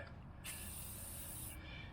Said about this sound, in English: I'm just using this WD-40 rust release penetrant